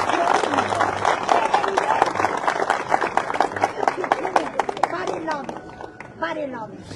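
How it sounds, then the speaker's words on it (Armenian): An audience at an outdoor gathering with Pashinyan in the Armenian village of Gndevaz claps steadily, in a dense patter of applause under a speaker's voice that fades toward the end. "Եկեք ծափահարենք այս խոսքերը։"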